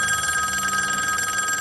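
Telephone ringing in a TV drama, a steady, loud electronic trill heard continuously with no talk over it.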